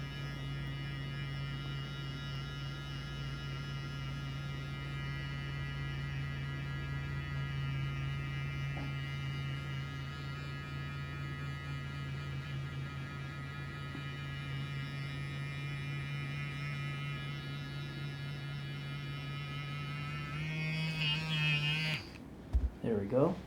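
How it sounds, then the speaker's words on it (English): A TMJ pen massage device running during an upper back therapy session, giving a steady low electric buzz that holds for about twenty seconds before it shifts and cuts off, with a person talking over it. "It's going to be using high frequency vibration to relax the area,"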